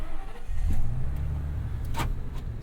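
A Ford E-350 van with a 6.8-liter Triton V-10 cranks and fires up, then settles into a low, steady idle rumble, heard close and fairly quiet with a couple of brief clicks.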